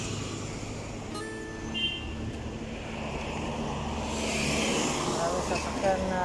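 Cars and other vehicles speed past on a busy roadway, a steady rush of traffic noise that swells toward the end, with talk over it.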